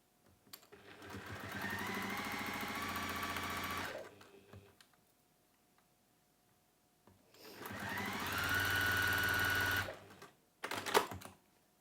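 A sewing machine stitches down both sides of a pouch handle in two long, even bursts of fast stitching separated by a quiet pause, followed by a brief final run.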